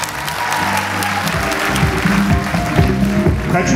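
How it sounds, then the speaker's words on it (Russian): Audience applause at the close of an autograph session with a television personality, dense continuous clapping that swells slightly toward the end, with low murmuring voices underneath. "Ваши аплодисменты."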